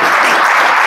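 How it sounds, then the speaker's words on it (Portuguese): A church congregation claps together at a preacher's call to applaud the Lord, a brief, dense burst of close, loud clapping with no voices over it. "Comece a aplaudir o Senhor agora em nome de Jesus."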